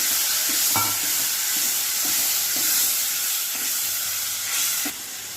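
Tomato paste frying in a ghee tempering with ginger, chili and garlic, giving a steady hiss and sizzle with a few soft stirring clinks, no voices.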